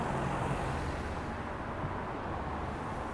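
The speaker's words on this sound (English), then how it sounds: "A lot of traffic." Steady roar of busy London street traffic, a continuous broadband wash of passing vehicles with no distinct events, moderately loud and without speech.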